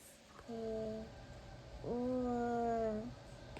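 A cat meows twice, a short call and then a longer, drawn-out one, close and fairly clear indoors over quiet room tone.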